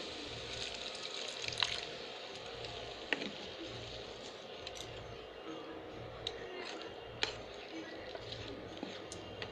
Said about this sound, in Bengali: এবার এর মধ্যে আমি একটু জল অ্যাড করছি।